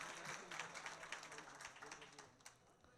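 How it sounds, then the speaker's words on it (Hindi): At a mushaira poetry gathering, an audience applauds to welcome a poet, giving a faint, dense patter of many hands clapping steadily and then gradually thinning out. "तालियों से आप इस्तकबाल करेंगे।"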